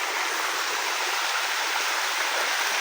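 A river stream flows steadily and continuously, a broad rushing wash of water close by with no voices.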